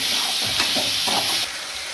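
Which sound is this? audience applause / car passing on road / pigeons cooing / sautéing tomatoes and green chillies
sautéing tomatoes and green chillies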